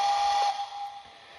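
A Lionel HO model train set's steam whistle gives a steady, breathy hiss with a thin tone for about half a second, then fades to a quieter lingering hiss.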